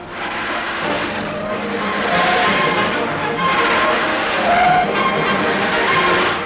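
Race cars speeding past at around 180 mph during a 24-hour race on a winding course in France, a continuous loud rushing roar that swells and fades as the cars pass.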